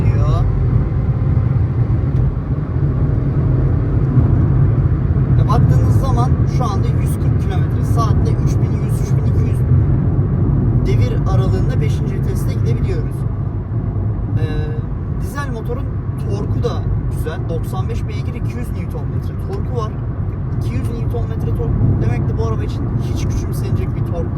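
Fiat Egea 1.3 MultiJet diesel, 2023 Easy Plus, cruising in 4th gear around 3600 rpm; a steady engine drone and road hum fill the cabin under continuous talk.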